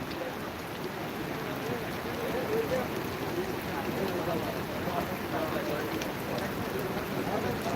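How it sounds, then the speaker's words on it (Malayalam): Rain falls at a beach in Alappuzha, where a cricket match on the sand has stopped. A steady, even hiss of rain lasts throughout, with people's voices faintly mixed in. "പെട്ടെന്ന് മഴ വന്നപ്പോഴേ കളി നിർത്തി"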